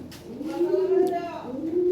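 Fancy pigeons coo in low, throaty, rolling calls that rise and fall across the clip, fairly close, with faint voices in the background.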